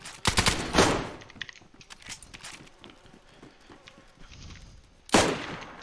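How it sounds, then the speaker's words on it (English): Bursts of video game gunfire, shots fired through a wall, crackle loud and close at the start and again near the end, with fainter scattered shots and movement between them. "Is he shooting me through a wall right now?"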